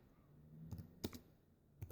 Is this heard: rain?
no